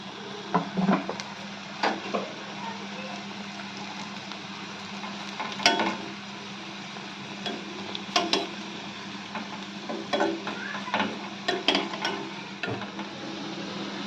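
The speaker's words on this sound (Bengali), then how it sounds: "আমি আরো 4টে এরকম করে ভেজে নেব" Taro leaf fritters fry in a pan with a steady low sizzle, while occasional scrapes and clinks of a spatula against the pan rise above it at irregular intervals.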